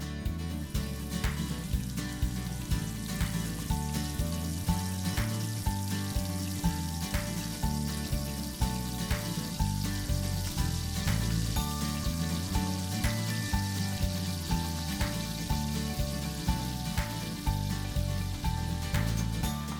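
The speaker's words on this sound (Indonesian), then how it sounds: "Nah sekarang langsung aja kita goreng udangnya." Batter-coated shrimp made with cold soda water fry in hot oil, a dense continuous sizzle and crackle that stays steady and close throughout, with no talking.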